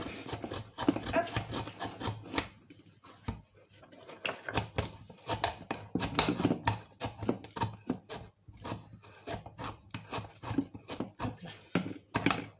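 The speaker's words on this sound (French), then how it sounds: "Donc Malicia va zester la moitié du citron, donc il faut frotter." Half a lemon is rubbed against a zester in quick, rasping strokes, a dense series of scratchy scrapes in short bursts with brief pauses between.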